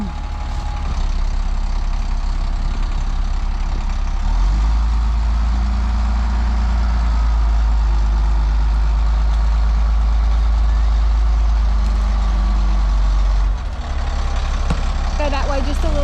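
A heavy off-road haul truck engine idles loudly with a deep, steady low rumble that swells and holds for most of the stretch, while people talk nearby.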